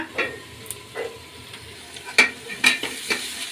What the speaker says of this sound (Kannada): ಈರುಳ್ಳಿ ಎಣ್ಣೆಲಿ ಫ್ರೈ ಆಗಲಿ ಈಗ ಕ್ಯಾಪ್ಸಿಕಮ್ ಸೇರಿಸ್ಕೊಳ್ಳೋಣ